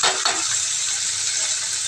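Chopped ridge gourd sizzles loudly in hot oil with tempering, a dense, close frying hiss that flares at the start as it hits the pan and then settles into a continuous sizzle.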